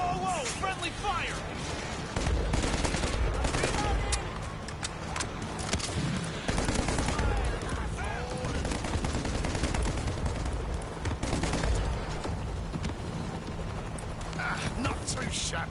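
Rapid bursts of gunfire in a Walking Dead game firefight, dense overlapping shots rattling steadily through the scene, with voices speaking over the loud, continuous shooting.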